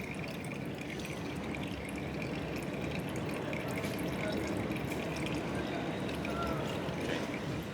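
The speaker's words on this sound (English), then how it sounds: "Just more draining action." Engine oil draining from a Yamaha XS750 motorcycle, a steady liquid trickle and pour that runs without break, fairly close and even in level.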